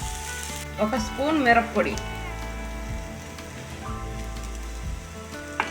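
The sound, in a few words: dried shrimp shells frying in oil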